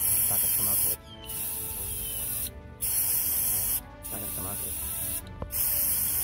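Spray paint hissing onto water to hydro dip a Nintendo Switch Pro controller, four loud bursts of about a second to two seconds each, separated by brief pauses, close up.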